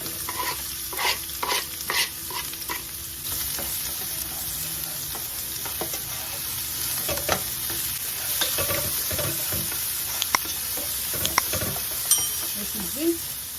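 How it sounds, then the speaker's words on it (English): Onions and garlic sizzle and crackle in hot oil as quail is stir-fried, with a steady frying hiss broken by sharp clinks and scrapes of a utensil against the pan, loud and close. "We add all the onions and the garlic together."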